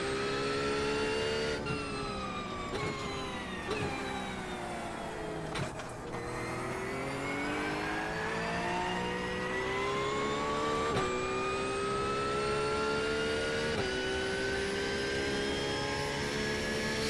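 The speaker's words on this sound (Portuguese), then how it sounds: "Um grupo de carros mais rápido está se aproximando." Several race cars in the iRacing Daytona 24-hour race roar steadily, engines climbing in pitch as a faster group closes in, with a dense, continuous drone and a few sharp shifts along the way.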